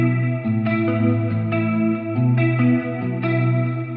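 A Kontakt sampled guitar library playing a phrase of plucked notes and chords, processed with EQ, reverb and delay, each attack leaving a shimmering chorused tail.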